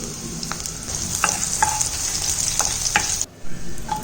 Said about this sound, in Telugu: కడాయిలో త్రీ టేబుల్ స్పూన్స్ ఆయిల్ వేసేసుకోవాలి ఆయిల్ వేసేసుకున్నాక సన్నగా తరిగి పెట్టుకున్న వెల్లుల్లి అండ్ గ్రీన్ చిల్లీ వేసేసుకొని బాగా మిక్స్ చేసేసుకోవాలి